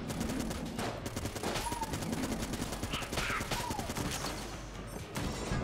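The Robot's Left Hand gun firing in Enter the Gungeon, a rapid, steady stream of loud game gunshots running nearly the whole time, with a few brief gaps and other game effects mixed in.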